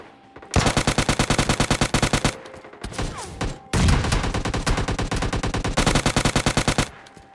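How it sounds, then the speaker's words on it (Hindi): Rapid bursts of automatic gunfire from the mobile battle royale game PUBG Mobile Lite, loud and close, in repeated volleys with brief gaps and no talking. "इतने में साइड से गोलियां पड़ी स्टार्ट हो जाती हैं"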